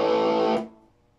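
Electric guitar played through a GTB Electronics Lucifer overdrive pedal, one distorted chord ringing loud and thick for about half a second before being cut off sharply.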